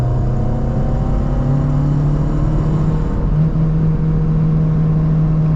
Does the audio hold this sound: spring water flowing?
no